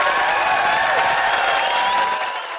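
Studio audience at a sitcom taping applauding and cheering, a loud, steady wash of clapping with whoops and a few sustained calls rising above it, easing slightly at the end.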